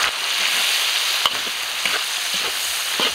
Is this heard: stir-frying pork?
yes